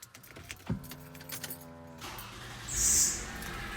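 A car engine cranks and catches with a short burst, preceded by faint clicks and jingling keys in the cabin, then settles into a low idle; a brief high electronic tone follows near the end.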